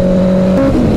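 A Honda CBR 650 motorcycle engine while cruising, a loud, close, steady droning whine that dips in pitch partway through the brief moment.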